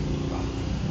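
Car engine catching and running loudly right after a fuel pressure regulator replacement, a brief dense engine roar close to the microphone.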